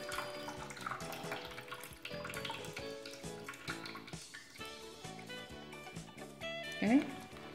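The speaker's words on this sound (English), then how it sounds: "now let's take out the water" Water is poured out of a container of Orbeez gel balls, a soft splashing trickle beneath someone speaking, with a brief louder gush near the end.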